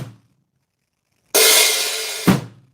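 Drum kit hi-hat: a short hit, a pause, then an open hi-hat washing bright and sustained before snapping closed with a quiet hi-hat stroke and a loud bass drum thump, close and alone.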